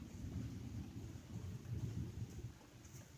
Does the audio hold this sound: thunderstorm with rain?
yes